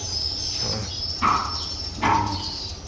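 Two short chirping swiftlet nesting calls played through a speaker in a swiftlet house, over a steady electronic hum and faint hiss, each call a brief bright twitter.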